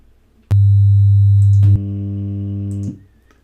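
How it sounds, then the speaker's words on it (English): A pure digital sine tone sounds steadily, then shifts to a louder, buzzier layered tone before cutting off, clean and isolated with no talk. "starting with a simple pure tone, which is what that is, we can build up any number of sounds"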